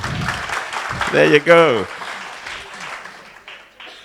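An audience claps at an award event, a short burst of applause that rises and fades, mixed with a speaking voice.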